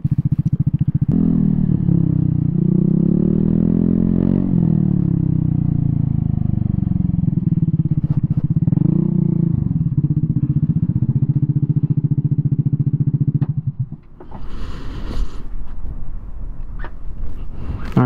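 Vespa scooter riding on a road, a steady droning engine with shifting pitch and wind rush for most of the ride, then a sudden drop and rougher clattering noise near the end.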